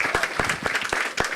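An audience claps at a round table event, a short burst of steady, fairly close applause with individual hand claps standing out.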